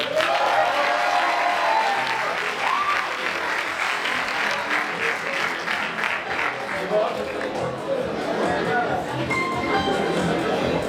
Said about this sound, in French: applaudissez Raphaël